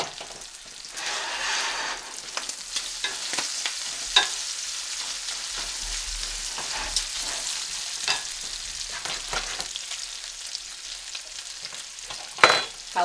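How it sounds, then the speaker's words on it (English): Garlic and jalapenos fry with bacon and onion in a pan, a steady crackling sizzle with scattered stirring scrapes and pops, close and without talk. "I'm going to add the garlic and the jalapenos to the bacon and the onion."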